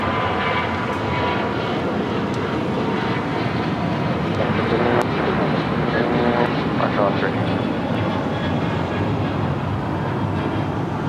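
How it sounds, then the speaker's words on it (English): Alaska Airlines Boeing 737-900 taking off at Los Angeles International Airport, a loud, steady broadband jet roar that holds constant throughout, with people talking over it. "Alaska Airlines flight 1317 heading to Seattle, 737-900 now taking off here on the south side."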